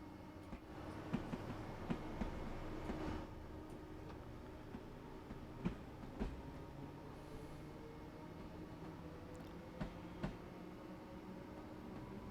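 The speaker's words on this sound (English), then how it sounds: "See, proper trains got proper noise to them" A train in the Train Sim World 4 video game runs along the East Coastway line, giving a steady, faint rumble with regular clickety-clack wheel beats and occasional sharper clanks.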